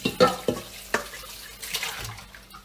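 A bowl is rinsed under running tap water in a home kitchen: splashing and sloshing with a few knocks of the bowl against the sink, close and fairly loud.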